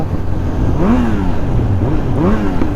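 A Kawasaki Z900 motorcycle engine on Chirala Beach, revving up and down in a couple of rising and falling swells, close and loud.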